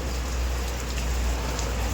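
Heavy rain falls outdoors on a hilltop during a public human-chain protest, a steady close hiss over a low rumbling undertone with no talk.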